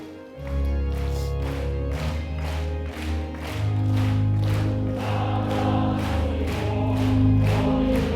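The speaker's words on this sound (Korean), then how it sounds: "우리 그 자리에 일어나셔서 355장 박수 치면서 우리 찬송 부르도록합니다." A church congregation stands and claps in regular rhythm while singing hymn 355 at a Sunday service, steady hand claps beating over a sustained sung melody with accompaniment.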